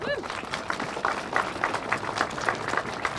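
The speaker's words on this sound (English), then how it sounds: "So if you could give them a round of applause." An audience at a ribbon cutting for a campus resource center applauds steadily, a dense even patter of many hands with some voices mixed in.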